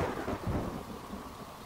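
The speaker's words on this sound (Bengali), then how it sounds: "এদিকে বৃষ্টি পড়ছে অঝরে" Heavy rain with a low rumble of thunder, a dense steady downpour hiss and a rolling boom that swells and fades, used as a sound effect in a horror audio story, with no voices.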